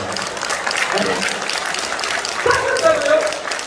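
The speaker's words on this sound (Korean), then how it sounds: "지금 박수를 치면 제 스트레스가 풀릴 것 같아요." A talk-concert audience claps in a continuous patter that swells slightly toward the end, with voices talking over it.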